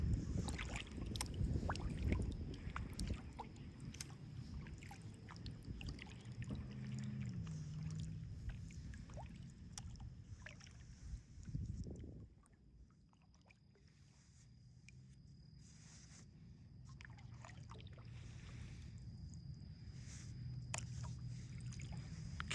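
A kayak is paddled at a fast pace on open water, with soft rhythmic splashes and dripping over a low rumble of wind on the microphone, steady and close throughout.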